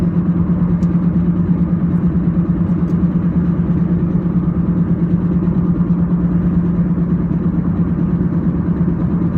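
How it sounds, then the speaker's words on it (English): A loud old car engine runs steadily from inside the cabin, a continuous low rumble and drone with no change in pace throughout. "this car is so loud"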